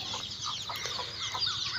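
Local chickens at a small poultry farm cluck and call repeatedly in short overlapping bursts, fairly close and steady throughout, with no talking.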